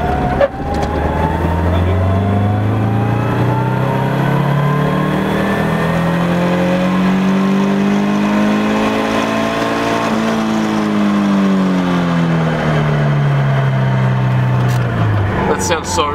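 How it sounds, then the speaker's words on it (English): Nissan S13 engine fitted with new headers revving up toward 7000 rpm, a loud sustained rising and falling engine tone close by, with people talking over it. "Alright, give us a solid rev."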